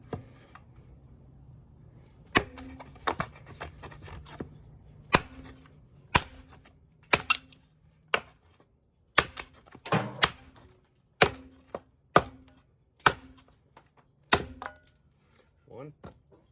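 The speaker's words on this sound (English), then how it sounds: "Just gonna see how many chops it takes to get through this piece of wood" Repeated chops of a Condor competition knife biting into a piece of wood, about a dozen sharp, close impacts spaced roughly a second apart, each with a brief woody ring, over a quiet background.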